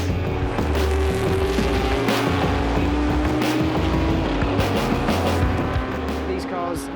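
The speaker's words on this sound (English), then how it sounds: "the Cobra obviously is a big V8" An AC Cobra with a big V8 races at Goodwood Revival, its loud, rough engine roaring continuously with shifting revs and passing cars, while a commentator talks over it.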